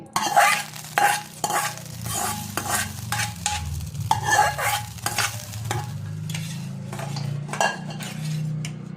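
Hot tempering stirred into red lentil and fenugreek leaf dal, with a busy run of spoon clinks and scrapes against the pot over a soft sizzle, close and fairly loud, with no talk.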